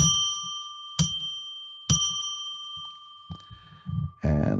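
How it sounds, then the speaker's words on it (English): A small bell is struck three times at a slow, even pace, each ring clear and sustained with a bright ringing tone, followed by a few soft thumps and handling noises. "Let's ring a bell 3 times to declare sacred space"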